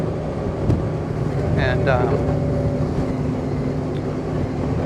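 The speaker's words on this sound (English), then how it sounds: "The engine's in pretty low RPMs for what I'm trying to do" Low, steady rumble of a 2021 Honda Gold Wing DCT motorcycle engine lugging at low RPM, blended with wind noise while someone speaks briefly over it.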